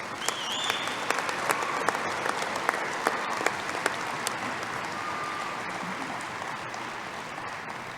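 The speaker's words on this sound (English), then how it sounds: "Please give them all a well-deserved round of applause." A commencement crowd applauds the wind ensemble, steady dense clapping sustained evenly throughout at moderate distance, with a few brief whistles and cheers rising above it.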